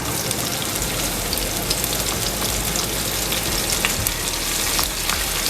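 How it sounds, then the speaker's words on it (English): Garlic, ginger and onion fry in a cumin tadka for dal palak khichdi, a loud, dense, continuous sizzle with fine crackling spatters close up throughout, with no talking. "Fry it nicely until the onions are nice golden brown and the tadka is nice aromatic."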